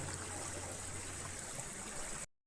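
A small, clean stream beside a hotel in a forest setting tumbles like a little waterfall, giving a steady, close rushing wash of water that stops abruptly near the end.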